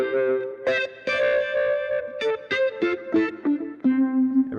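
Electric guitar double stops played through a Jam Pedals Retro Vibe and Moleco Echo 616 dark analog delay into a Vox AC4 amp with a Weber ceramic speaker, ringing chords and repeated plucked notes with swirling modulation and trailing echoes, played alone.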